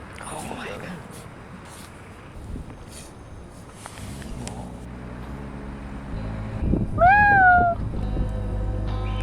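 A cat outdoors in Iceland in winter gives one clear, rising-then-falling meow near the end, after people talk over wind and background hum.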